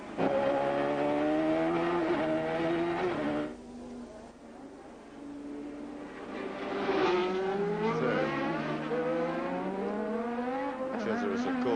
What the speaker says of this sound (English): Not up to full racing speed yet. He's on cold tyres